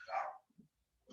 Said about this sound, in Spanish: mis perros están lo más calladitos, empecé la clase y se empezaron a ladrar